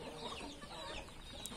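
Several mixed carijó and naked-neck chickens in a farmyard, clucking softly and continuously at close range over a steady noisy background.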